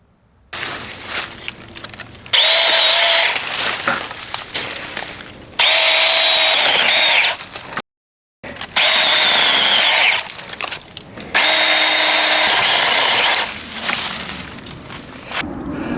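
A battery chainsaw cutting through a large, tree-like bush, its loud whining motor revving in long bursts of several seconds with short drops between, close by.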